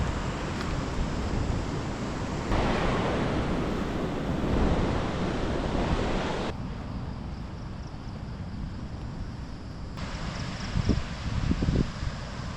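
Sea waves wash steadily onto a beach on Koh Phangan, a broad continuous surf roar with gusts of wind buffeting the microphone throughout and no voices.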